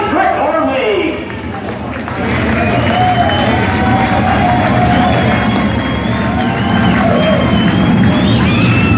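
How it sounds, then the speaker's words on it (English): At a sprint car race at Osky, a large grandstand crowd cheers, whoops and hollers in a loud continuous roar, with a brief dip near the start before swelling again. "give them a big hoop, holler, wave and a send off, make some noise for your power eye, Lucas Oil, Roar, Sprint Car League"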